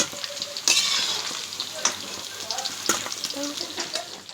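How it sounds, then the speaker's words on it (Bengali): Paneer pieces fry in oil in a kadai, crackling and spitting loudly up close, with sharp pops and stirring clatters punctuating the continuous sizzle for several seconds. "এবার কড়াই দিয়ে পনিরগুলোকে আমি ভেজে তুলে রাখবো।"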